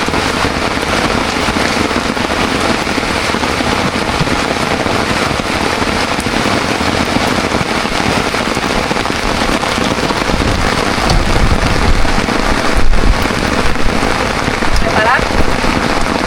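Heavy rain pours down steadily during a fishing trip, a dense, loud hiss of drops drumming on nearby surfaces throughout, with occasional sharper splashes.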